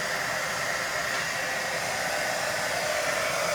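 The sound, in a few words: hair dryer drying glue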